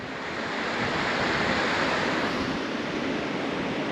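Constant broadband rushing of wind and surf, loud and unbroken, with a soft rumble of the wind hitting the microphone.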